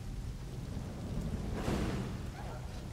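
Steady rain with a low thunder rumble from a thunderstorm in the video game The Elder Scrolls Online, a continuous wash that swells briefly in the middle and stays fairly faint throughout.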